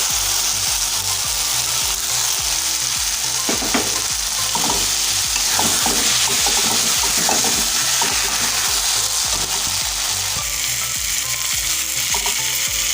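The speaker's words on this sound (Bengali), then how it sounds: "এবার আমি ডিম, ভেজে রাখা ডিম আর বেগুনগুলো আমি দিয়ে দেবো।" Fried eggs and eggplant pieces going into a spiced masala, a loud and steady sizzle with scraping stirring strokes throughout, close to the pan and without voices.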